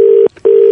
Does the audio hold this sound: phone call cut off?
yes